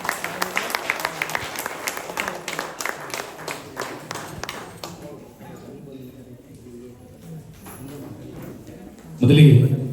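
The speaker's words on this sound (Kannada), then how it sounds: "ಒಂದು ಜೋರು ಚಪ್ಪಾಳೆ" An audience at a felicitation ceremony and book release in Kuppalli claps loudly for about five seconds. The applause then thins to scattered claps and fades, and a voice enters near the end.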